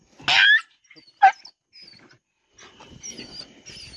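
A couple of short dog barks or yelps up close, followed by scattered softer whimpering noises and rustling.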